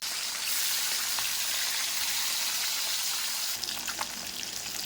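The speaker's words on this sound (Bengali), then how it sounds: "মাছগুলো উল্টিয়ে আমি দুদিন ভেজে নিয়েছি" Falli fish fry in hot oil in a pan with a loud, steady, close sizzle that runs unbroken, brightening with some crackle near the end; no one speaks.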